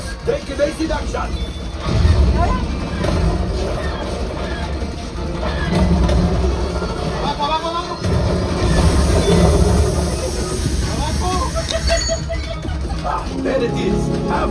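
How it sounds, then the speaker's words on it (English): A Disneyland attraction train passes amid park crowd noise, with rumbling rail and wheel sounds running steadily under voices and other ride effects throughout. "There's the train."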